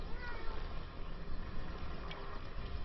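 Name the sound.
cat meowing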